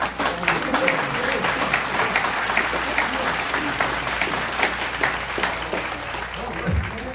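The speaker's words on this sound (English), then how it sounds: "Come on, give a round of applause." Audience applause fills a comedy show for a volunteer called up from the crowd, sustained dense clapping near and loud for about seven seconds with scattered voices mixed in, tapering slightly at the end.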